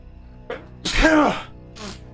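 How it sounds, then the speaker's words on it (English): A loud, sharp sneeze in the video game Little Hope, preceded by a short intake and followed by a brief trailing vocal sound, up close and alone. "Oh man, big sneeze."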